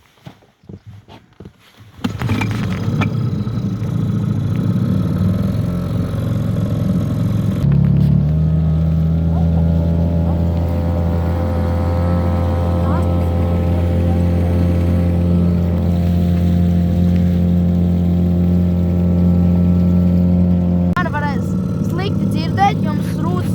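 Outboard motorboat engine on a small local river during a pike fishing trip, starting up and then droning loud and steady close by for about twenty seconds before cutting off.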